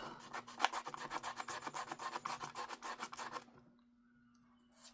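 Sanding on an altered card for a junk journal, a quick rhythmic series of close rasping strokes at a steady pace that stops abruptly, followed by near silence.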